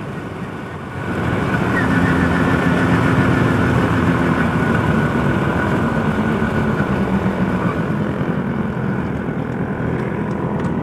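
A Suzuki RC 100 Bravo motorcycle engine held at full throttle on a night ride, a loud, steady, close roar that starts about a second in and barely changes afterward.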